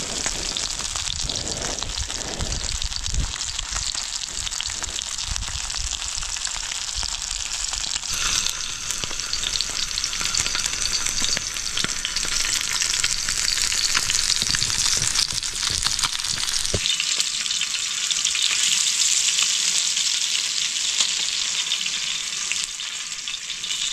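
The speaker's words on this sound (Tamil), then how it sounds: "நம்ம எடுத்து 4 மீன் போட்டாச்சு." Four snakehead fish fry in a pan, making a loud, continuous sizzle and crackle with occasional stirring noises. The sound thins and steadies partway through, and no one speaks.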